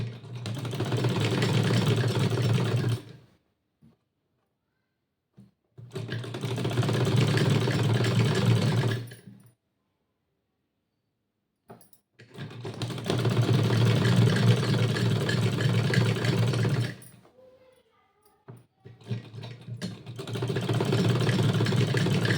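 Sewing machine stitching salwar panels, running in long steady motor bursts of a few seconds each, separated by short pauses, close and fairly loud.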